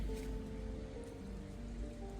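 Rain falling in a flower garden among roses, a steady soft patter with a constant hiss, even and continuous, with no voices.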